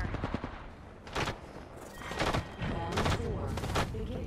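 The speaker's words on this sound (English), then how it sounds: "Target spotted. Opening fire." Bursts of rapid automatic gunfire crackle through a video game firefight, several sharp volleys spaced a second or so apart over steady background noise.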